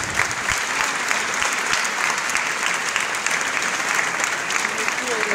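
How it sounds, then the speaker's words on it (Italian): A congregation applauds during a church ceremony enthroning and dressing a statue of the Madonna, sustained even clapping throughout, moderately loud and continuous. "Noi gli facciamo un applauso."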